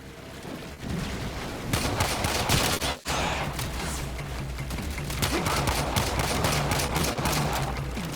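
Rapid semi-automatic pistol fire from the video game Warframe, a dense run of shots with a brief gap about three seconds in, then continuing steadily and loud under game sounds.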